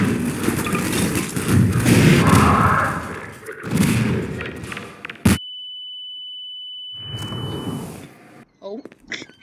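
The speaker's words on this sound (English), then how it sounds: "They chucked a grenade in." In Garry's Mod on a haunted asylum map, a thrown grenade goes off as one sharp, loud blast after players speak excitedly, followed by a sustained high ringing tone and then more talk.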